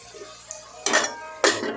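A metal spoon stirs onions frying in a cooking pot for a taro root curry. Two sharp clanks against the pot sound up close over a low, quiet sizzle.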